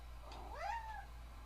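A cat gives a single clear meow, rising then falling, close and distinct over a quiet room with a low steady hum.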